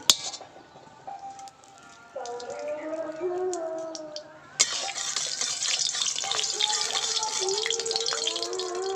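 Running tap water splashes steadily into a kitchen vessel while washing up before cooking Bengali payesh with grated bottle gourd, starting quieter and growing to a fuller, louder gush midway, with faint clinks of utensils.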